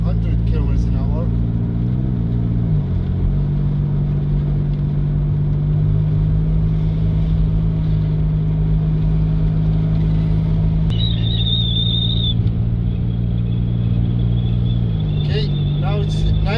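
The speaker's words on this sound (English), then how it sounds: "now it's just gonna accelerate up to 100 kilometers an hour" A car with a shaking, vibration fault accelerates toward 100 km/h on the road, its steady mid-pitched engine drone stepping up through gear changes while someone talks over it throughout.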